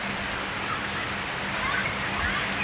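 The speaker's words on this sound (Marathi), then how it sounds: "आता खूप जोरदार पाऊस चालू आहे" Heavy rain pours steadily as a continuous broadband hiss with scattered drop patter, loud and unbroken throughout; a faint low hum sits underneath and no clear voices stand out.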